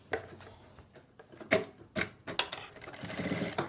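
A sewing machine stitches the elastic waistband of palazzo pants in short, close bursts of rapid mechanical chatter, broken by brief pauses, then a longer steady run at the end.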